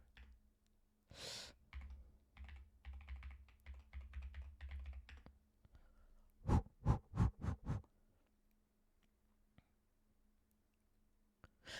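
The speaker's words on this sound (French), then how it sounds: "Je crois que j'ai appuyé sur toutes les touches de mon clavier en même temps" Rapid keyboard key presses, a run of light taps followed by a cluster of sharper, louder clicks, close up with no speech.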